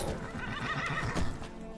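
A horse in the video game Skyrim gives a short, breathy whinny with faint hoof clops, heard alone at moderate loudness.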